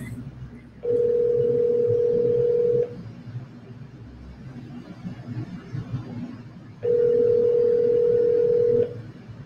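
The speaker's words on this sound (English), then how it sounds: "I hope we can get someone on the phone." A telephone ringback tone sounds on an outgoing call, two long steady buzzing rings about four seconds apart, each lasting around two seconds, with a quiet low murmur between them.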